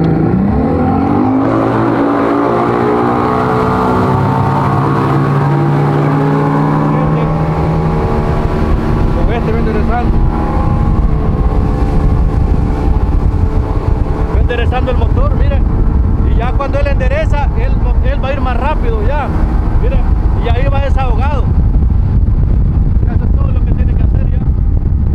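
A boat's outboard motor revs up loudly and pulls forward, its engine pitch climbing steadily and then holding a strong, steady roar, with heavy wind and water noise throughout, recorded close on board while heading out fishing.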